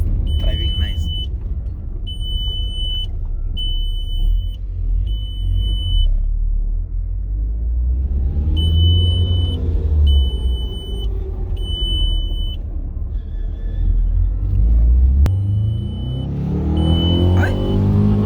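A car drives steadily past with a continuous low engine rumble and road noise, while repeated electronic beeps sound intermittently over it and voices talk nearby.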